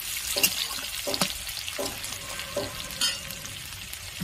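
Chopped onion frying in hot oil for a Bengali-style shikh chhatu dish gives a moderate sizzle, with repeated scraping stirs and small splashy bursts at irregular intervals.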